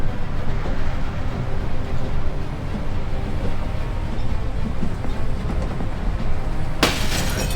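A train running along its tracks in a video game gives a loud, steady rumble and clatter throughout, ending in a sudden bright hiss near the end.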